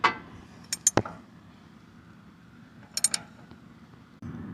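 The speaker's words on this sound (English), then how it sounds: "Take your socket wrench" A socket wrench loosens a counterweight nut on a back engine panel: two short bursts of sharp ratcheting clicks separated by quiet, with a faint thump at the end.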